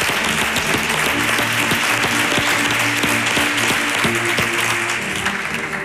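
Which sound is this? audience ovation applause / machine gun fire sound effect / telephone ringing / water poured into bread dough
audience ovation applause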